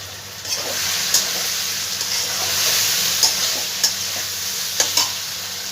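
Potatoes and vegetable stems frying in spiced oil, the flame turned low: a steady soft sizzle runs throughout, broken by a few light clinks and scrapes of a spatula stirring, with no talking.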